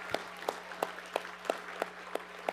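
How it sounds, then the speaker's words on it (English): Faint, evenly spaced claps at an award ceremony for the Braille Challenge finals, sounding at a steady beat about three per second over a low hum, more like a distant rhythmic clap than a full crowd roar. "I just want all of you to give a round of applause for yourself"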